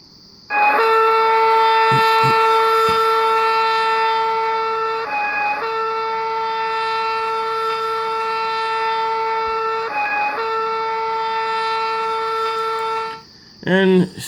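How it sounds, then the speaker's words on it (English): A looping train horn from the Trainz game sounds as a loud, sustained multi-tone chord for about twelve seconds, with brief dips where the loop repeats, then breaks off into short fading blasts. "This is the sound you hear as you're holding the H button."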